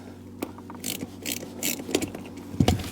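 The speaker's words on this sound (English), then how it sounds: "I typically use a ratcheting wrench" A ratcheting wrench works plastic 10 mm nuts off the gas pedal of a Mercedes W210 E55 during a manual swap, making short bursts of close mechanical clicking and scraping.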